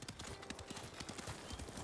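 Hooves clip-clopping as a summoned horse trots up in the video game Ghost of Tsushima, a quick steady run of close, moderately loud hoofbeats with a faint whinny-like hint, no talk over it.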